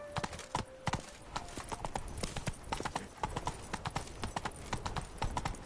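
Roach the horse trotting in The Witcher 3, quick continuous hoofbeats in an even rhythm, close and prominent, with a brief low voice early on.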